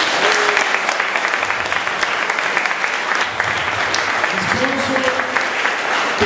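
Sustained audience applause at an evening festival and awards event held by a fireworks committee, dense steady clapping throughout, loud and close with faint voices mixed in.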